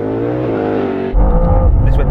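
A Ford Mustang V8 and a BMW M2 launch together in a drag race. Engines rumble steadily, then burst into a loud, deep roar of hard acceleration as both cars take off.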